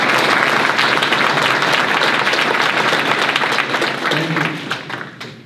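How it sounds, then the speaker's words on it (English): A meeting audience gives a full round of applause for municipal council candidates at an all-candidates night in Midland, Ontario, loud and continuous clapping that gradually thins and fades near the end. "So how about a round of applause for folks on the"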